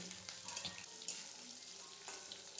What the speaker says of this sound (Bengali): মূলোটা দিয়েও ভালো করে একটু ভেজে নেব